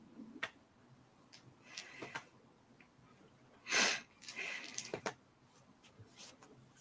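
A single sudden sneeze bursts out partway through, surrounded by quiet rustling and a few faint clicks.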